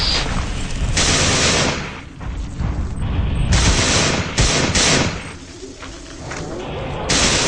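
Rapid gunfire in the System Shock 2 shooter game, loud bursts of automatic fire and booms in repeated blocks with brief gaps, close and dominant, with a voice briefly heard.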